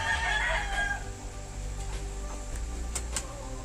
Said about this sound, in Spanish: qué les parece este gallito cresta de sierra